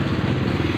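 Motorcycle engines rumble close by in a short, continuous burst of low, throbbing mid-range noise.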